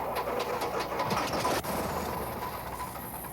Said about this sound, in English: The engine coughed, gasped, and smoked as a perspiring ground crewman futilely spun the propeller, but it didn't start.